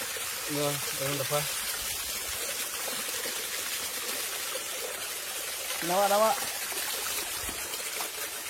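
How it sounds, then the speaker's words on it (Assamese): Steady water trickling and splashing outdoors at Joyrampur in Dhemaji, with a couple of brief voices calling out over it near the start and again later. "চৰচৰকৈ পানী পৰি থকা"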